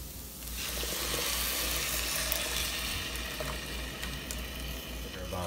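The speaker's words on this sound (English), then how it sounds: "Next, we add our pureed tomatoes" Pureed tomatoes go into a hot pan of spiced chana masala base with coriander, giving a steady loud sizzle and bubbling hiss that holds throughout with no one speaking.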